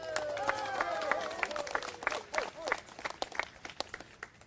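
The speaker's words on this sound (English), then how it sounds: "Can we please give him another round of applause?" Audience at a Native American monument dedication breaks into applause, a moderate patter of many hands clapping with scattered distinct claps, mixed with faint crowd voices.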